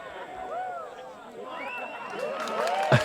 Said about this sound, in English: You just hear the crowd.